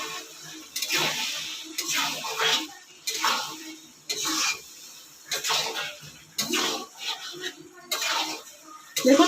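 A spoon stirs chopped coriander into a dry fish curry of amudi fish with potato and eggplant in a pan, giving intermittent scraping and clinking bursts with short pauses between them, while a voice talks in the gaps.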